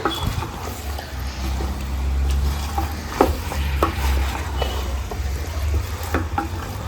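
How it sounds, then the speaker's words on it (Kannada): Chicken pieces fry in oil in a pan, making a continuous close sizzle over a low rumble, with scattered scraping clicks as they are moved about. "ಎಣ್ಣೆಯಲ್ಲಿ ಒಂದು 5 ನಿಮಿಷ ಫ್ರೈ ಮಾಡ್ಕೊಂಡು ಆದ ಮೇಲೆ ಮಸಾಲೆ ಹಾಕ್ಕೊಂಡ್ರೆ ಆಯಿತು"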